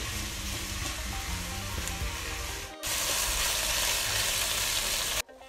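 Beef ragu ingredients with tomato paste sizzling and roasting in a hot pan, a loud, continuous crackling fry with a brief dip midway as the pan is stirred.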